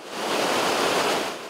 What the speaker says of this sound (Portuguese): O barulho que mais parece a queda de uma cachoeira